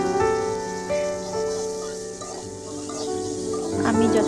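Soaked dried puti fish being stirred and fried with onions in a pan for a radish curry, with a steady soft sizzle and occasional scraping stirs close by and no speech.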